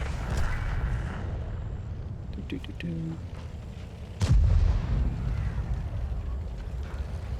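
A tank cannon fires once in World of Tanks: a sharp loud blast with a booming low rumble, set against steady engine and battlefield noise and a few faint mechanical clicks.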